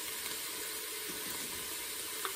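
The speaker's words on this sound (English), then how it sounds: "I love the smell of onions and peppers and celery sauteing." Onions, peppers and celery sauteing in a pan, a soft continuous sizzle heard close with no talking.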